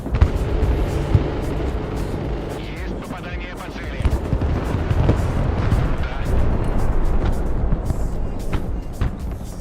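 Aircraft strafing run in a video game: dense, rumbling bursts of gunfire roll on continuously for several seconds, mixed with engine noise and heavy low-end booms, while a voice talks over it.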